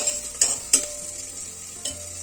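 Onions fry in a pan with a steady soft sizzle while a spoon scrapes and stirs them in three distinct clatters, close and clear with no talking.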